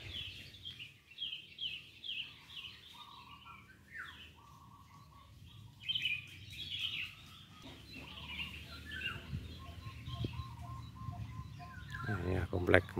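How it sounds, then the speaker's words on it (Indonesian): An oriole calls near a grave complex among other chirping birds, giving short repeated whistled phrases at moderate distance over low outdoor background noise. "Dan ini ada suara burung podang kelihatannya."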